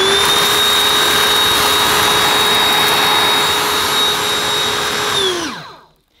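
A Gtech K9 Multi cordless vacuum cleaner runs with a loud, steady high-pitched whine as it picks up debris, then powers down and winds off to silence.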